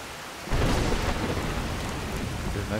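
A thunderstorm with lightning and rain in Skyrim: steady heavy rainfall hisses over a low rolling thunder rumble that swells in after a quiet start, with no voices.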